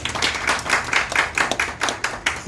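Audience clapping at a business networking club New Year event in Kolkata, a fairly loud round of distinct, uneven hand claps from a modest crowd, close and continuous across the moment with no talk over it.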